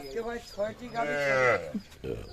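At a cattle market in Dinajpur where cows are kept with their calves, one animal gives a drawn-out, wavering moo nearby, with shorter calls before and after it.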